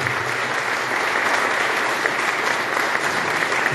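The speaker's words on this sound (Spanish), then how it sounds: "Le damos un fuerte aplauso." A congregation gives strong, steady applause inside a church during a Catholic ceremony installing new priests. The clapping is close and full, sustained evenly for a few seconds with faint crowd murmur underneath.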